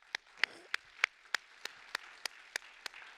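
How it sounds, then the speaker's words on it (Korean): Slow, evenly spaced single claps, about ten in a row, crisp and fairly close, during a church service, with little else around them. "하나님께 감사의 박수 드립시다"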